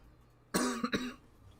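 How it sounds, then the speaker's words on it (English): A single close cough breaks out of quiet, a harsh burst followed by two quick smaller hacks, then silence. "It's just a generic cough."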